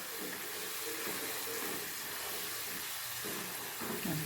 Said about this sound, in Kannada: ಯಾಕಂದರೆ ಪೊಟ್ಯಾಟೊನ ಎಣ್ಣೆಲಿ ಕರಿದಿರ್ತೀವಿ